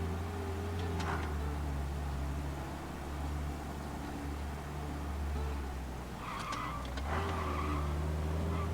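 A car engine in Mafia: Definitive Edition revs steadily under a police chase, a continuous low drone with brief tire-squeal bursts near the start and again toward the end.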